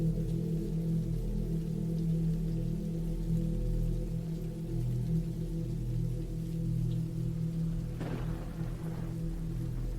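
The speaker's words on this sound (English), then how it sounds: "The rain kept falling, and somewhere, out there in the woods," Steady rain falls in woodland at night, a dense even patter with low rumbling undertone throughout and a brief sharper splash near the end, no voices.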